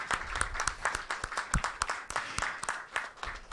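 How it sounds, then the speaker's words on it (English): A conference audience at a Three Seas Initiative event hosted by the German Marshall Fund breaks into a modest round of applause, with dense, fairly quiet clapping that carries on steadily for a few seconds. "I would like all of you join me in rising applause"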